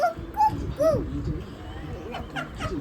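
A young child imitates a dog, giving a few high yipping, whimpering bark sounds close up, with adult voices speaking around them.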